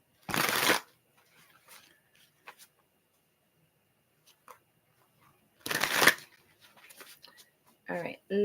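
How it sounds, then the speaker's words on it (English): Tarot cards being shuffled in two loud riffling bursts, one at the start and another mid-way, with small taps and handling noises between and a voice beginning to speak at the very end. "last shuffle, and we're just going to see what comes out"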